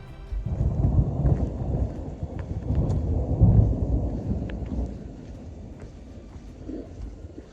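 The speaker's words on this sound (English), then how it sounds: "And we've got thunder and lightning." Thunder rolls outdoors along the Arizona Trail, a deep, long rumble that swells and fades over several seconds, with light rain patter underneath.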